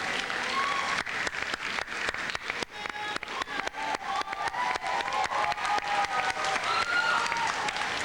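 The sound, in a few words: graduation crowd applauding the parents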